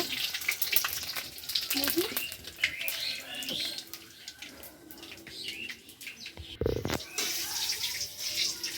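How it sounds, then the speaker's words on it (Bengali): Bay leaf, dried chili and five-spice seeds sizzle and crackle in hot mustard oil, a loud steady hiss with sharp pops throughout, and a brief louder burst near the end. "একটা তেজপাতা, শুকনো লঙ্কা আর 5 ফোড়ন সম্বার দিয়ে দেব।"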